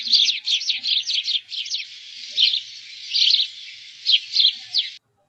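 A flock of small birds chirps in bright, rapid bursts, close and fairly loud, the twittering calls clustered in quick runs and pauses for about five seconds before cutting off, with no talk.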